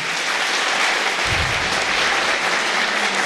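An audience at the Hyderabad Literature Festival 2018 applauds in a loud, dense, steady wash of clapping that fills the room from start to finish, with no voices standing out.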